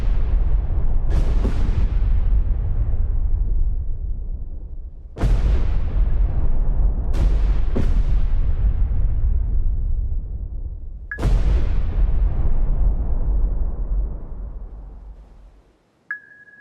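Heavy naval gunfire from a destroyer engaging a U-boat in the game Destroyer The U-Boat Hunter: five loud booming blasts at uneven intervals, each with a long rumbling decay, followed by a brief electronic beep at the end.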